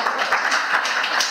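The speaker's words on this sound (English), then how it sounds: "Let's give ourselves a round of applause." Loud, dense applause from a summit audience, a steady wash of many hands clapping that fills the short stretch without pause.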